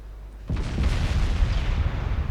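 Heavy naval gunfire landing on enemy warships in a 1913-era naval strategy game, a single sudden deep boom followed by a rumbling, crackling roll of impacts that sustains loudly to the end.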